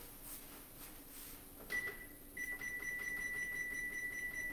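A kitchen stove gives a steady electronic beep, a short tone followed by a longer sustained one, as it is switched on before meatballs and rice are cooked; faint and close, with no talk.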